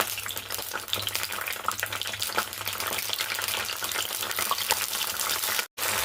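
Red chillies fry in a few spoonfuls of oil in a pan, giving a dense, crackling sizzle that runs steadily and close up, then cuts out abruptly for a moment near the end.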